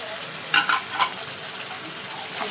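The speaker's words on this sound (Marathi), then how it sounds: "आणि त्यानंतर आपण आलं लसणाची पेस्ट टाकून घेणार आहे," Ginger-garlic paste drops into a hot pan for chicken masala, a dense, steady sizzle with a few louder spatters and stirring scrapes near the start, close and loud with no talking.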